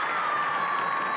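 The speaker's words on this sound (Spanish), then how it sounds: "Aplausos para la señora. ¿O aplausos para el señor?" A studio audience on the Sábado Gigante variety show cheers and applauds for a contestant, a dense, loud crowd roar with whoops that stays steady through the short burst and has no speech over it.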